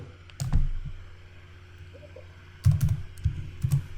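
A computer keyboard clatters nearby in two short bursts of quick keystrokes separated by a pause, with no voices.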